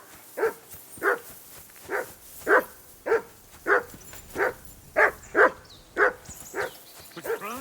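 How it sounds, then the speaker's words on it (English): A dog in the medieval game Kingdom Come Deliverance 2 barks repeatedly, about a dozen evenly spaced woofs at moderate distance over quiet ambience. "I assume you can hear that damn dog of yours barking."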